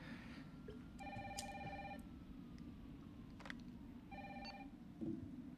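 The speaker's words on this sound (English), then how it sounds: "we gotta go answer this phone, so let's go to the phone" A telephone rings in the survival horror game Resident Evil 3 Remake, three separate bursts of electronic bell trills spaced a few seconds apart over a low ambient game drone, with no voices.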